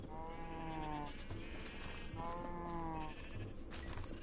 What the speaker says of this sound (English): Is it just a sheep?